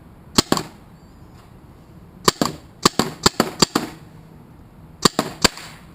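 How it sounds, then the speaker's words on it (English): Sharp pneumatic pops from a Tiberius Arms or Tippmann TPX paintball marker, fired in quick irregular bursts of two to five shots with short pauses between volleys, close and loud. "you could definitely hear the difference. A marker that's firing a ball versus one that isn't"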